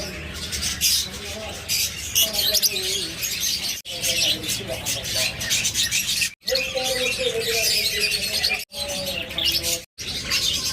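Baby birds at a pet bird shop squawk and chirp in dense, busy bursts, mixed with rubbing and rasping noises and a talking voice, broken by a few abrupt cuts.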